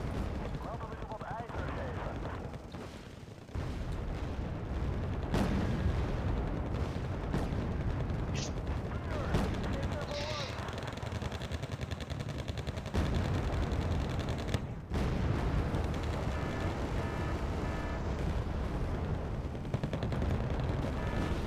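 Mortar fire and explosions in the real-time strategy game Wargame Red Dragon, repeated booming impacts over a dense battle din, with someone talking over the action at times.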